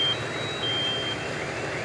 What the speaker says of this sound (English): You hear the fire alarms actually going off in the building.